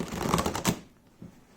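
Tarot cards are shuffled in a short burst of quick riffling clicks, close and fairly soft, trailing off into near quiet.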